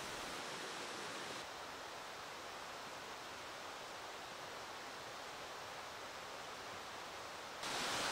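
A small river on a Mount Moosilauke trail in the White Mountains rushes in a steady, even wash of water noise that stays constant throughout, with no voices.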